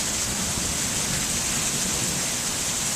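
Heavy sideways rain lashes down during a storm in Goodyear, Arizona, a dense, steady roaring hiss that never lets up, with no voices.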